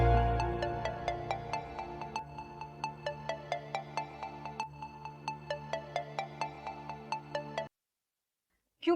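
A phone ringtone plays a bright, repeating electronic melody in quick pulses for several seconds, then cuts off into silence.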